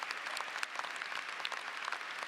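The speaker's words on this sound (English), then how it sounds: "let's give a round of applause to the parents." Audience applauding the parents at a university convocation ceremony, steady dense clapping from a large crowd heard at a distance, fairly faint and unbroken.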